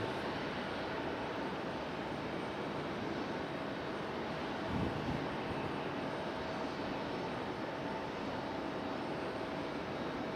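Aircraft landing and taking off on a single active runway at Raleigh-Durham International Airport, a steady broad engine roar holding at moderate distance throughout, with no voices.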